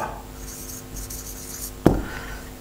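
Marker or chalk scratches across a board, with soft continuous strokes and a sharp tap near the end, close and fairly quiet, with no voices.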